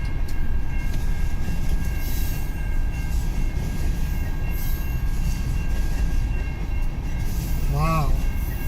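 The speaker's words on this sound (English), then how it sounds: "He's just a heavy train." A heavy, very long CN M383 freight train with many tank cars passes steadily at close range and gathers speed, its constant rumble and wheel noise filling the scene, with a brief metallic squeal near the end.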